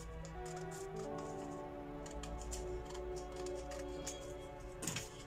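Scissors snip through a fabric pattern piece for a milkmaid bustier blouse, making a run of soft, close clicks over a steady low hum, with one louder sweeping cut near the end.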